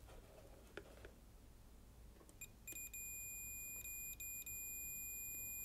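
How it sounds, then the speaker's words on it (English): A multimeter gives a continuity test beep on an oven selector switch, a steady high electronic tone that starts partway through and holds with brief interruptions over faint handling noise. "we get a beep."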